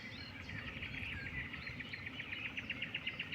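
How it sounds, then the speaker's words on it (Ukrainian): Birds chirp and twitter steadily at a moderate distance over a low background hum, at dawn by a night-fishing spot, with quick repeated tweets growing busier toward the end. "Пташки співають."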